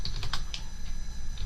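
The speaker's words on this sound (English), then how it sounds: "Just as I'm typing" Keys on a computer keyboard are tapped in a few quick, close clicks at an irregular pace, with no voices present.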